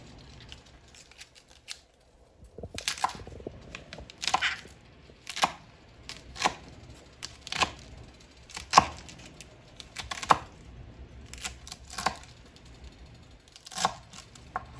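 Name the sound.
cabbage being cut up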